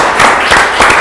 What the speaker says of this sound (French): Allez, on va l'applaudir, il n'y a pas de raison.